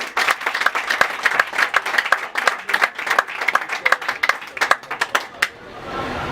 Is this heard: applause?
yes